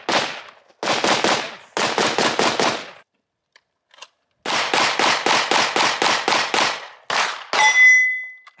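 Rapid strings of loud gunshots at a large outdoor shooting range, fired in fast bursts of several shots each with short pauses between volleys, close and sharp with a metallic ring at the end.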